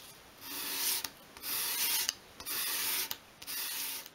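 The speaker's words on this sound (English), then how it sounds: "finish that piece off in your hand with a piece of fine grade sandpaper and just sweep it across it like that" Fine grade sandpaper swept by hand across a miniature 1/12th scale wooden shelf piece: four rhythmic, close rasping strokes of even length with short pauses between them.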